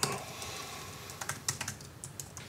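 Computer keyboard keys pressed while testing a DIY Arduino PC gamepad setup, a quiet hum followed by a brisk cluster of close, light key clicks.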